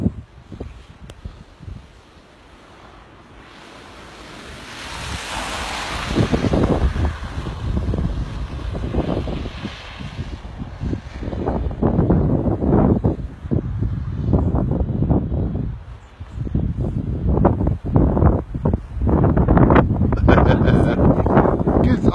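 Strong coastal storm wind roaring across the shore at Jaywick during a blizzard, a loud, continuous buffeting rush against the microphone with surges and waves breaking beneath it.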